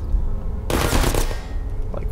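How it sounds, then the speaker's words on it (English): Turrets in the Portal video game open fire in a sudden rapid burst of gunshots lasting about half a second, loud and close, then fade to a quiet hum. "Oh my gosh, they're shooting at me from all directions."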